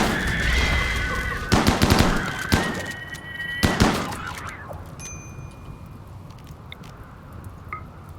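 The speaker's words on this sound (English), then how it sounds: "Couple of shots got off." Gunshots ring out in the video game RimWorld: a few sharp cracks clustered in the first four seconds over a steady background hum, then fading to quieter ambience with faint blips.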